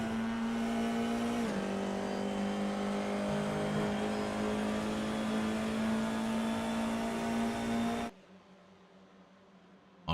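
Race car engines roar loud and steady in a GT-F sim racing game at Laguna Seca, one sustained engine note holding through a dip then running on before cutting to near silence near the end.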